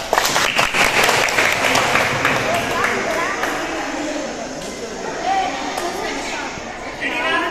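Children clapping their hands during a group game, a dense patter of claps from many small hands mixed with chatter and voices of a crowd, sustained throughout.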